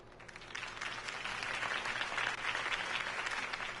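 Crowd applause rises after a mayoral campaign speech in the Telltale Batman video game, a steady, dense clapping that holds at even strength throughout without a break.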